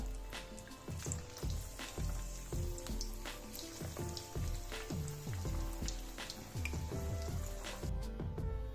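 Fenugreek cutlets deep-frying in hot oil, a steady close sizzling and bubbling crackle with faint clinks from a utensil throughout.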